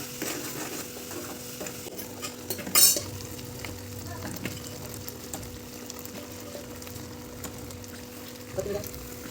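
Fish fry masala with salt and coconut powder stirred slowly in a sizzling pan: a steady, soft frying hiss runs throughout, with a brief metallic scrape of the utensil near the start and another near the end.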